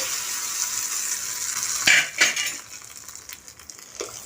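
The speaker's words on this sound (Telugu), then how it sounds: "స్టవ్ పైన బాండి పెట్టుకుని ఆయిల్ వేసుకొని ఆవాలు జీలకర్ర వేసుకుంటున్నాను" Mustard seeds and cumin sizzling in hot oil in a pan on the stove for a chutney tempering, a steady close hiss broken by a few sharp pops and utensil clinks that then fades.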